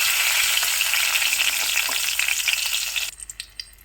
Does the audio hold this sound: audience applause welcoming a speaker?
no